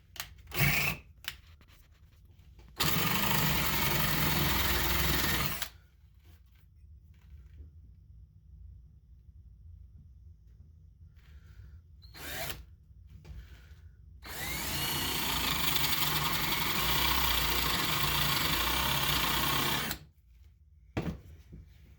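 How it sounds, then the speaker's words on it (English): A power drill with a 1-inch bit whirs loudly through wood in two long bursts, separated by quieter pauses with faint handling noises. "use a 1-inch drill bit to drill the holes for the finger holes"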